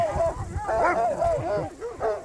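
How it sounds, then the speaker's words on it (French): Guard dogs charge at a hiker on a trail, giving a run of loud, close, wavering barks and yelps in quick uneven bursts. "Ah, les chiens vont arriver dessus. Voyez, ils vont me foncer dessus."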